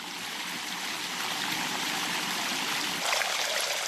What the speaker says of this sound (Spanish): uno está presenciando cómo corre el agua, la está oyendo